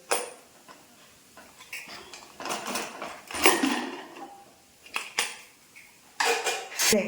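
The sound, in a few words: opening a pressure cooker after cooking sambar vegetables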